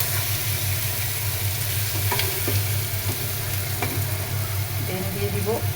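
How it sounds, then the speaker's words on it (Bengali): Onion frying in a pan for a tomato and egg bhuna, a steady close sizzle with occasional light clicks of stirring throughout. "পেঁয়াজটা হালকা ভাজা করে নিলাম।"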